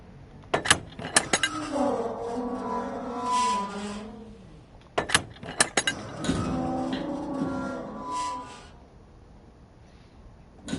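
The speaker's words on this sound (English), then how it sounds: "And then go shut my back doors." The back doors of a truck in a trucking video game are shut in two rounds, each a cluster of sharp metallic clanks and latch clicks followed by a rattling scrape, fairly loud and close, no talking.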